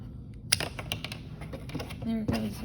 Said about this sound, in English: we're gonna cut these 6 straws in half